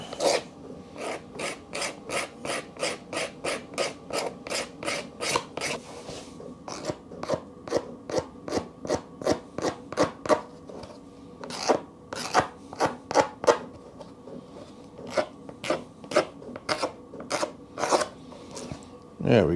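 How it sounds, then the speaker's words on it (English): A part on a BMW GS motorcycle being scraped by hand, with fast, regular rasping strokes that repeat in rhythmic bursts close up, pausing briefly midway before resuming more irregularly. "That's the one, just scraping it."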